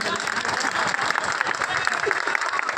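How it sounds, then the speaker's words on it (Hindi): Steady applause from a crowd, many hands clapping continuously and loudly throughout, with voices mixed into the noise. "एक बार जोरदार ताली बजा दो।"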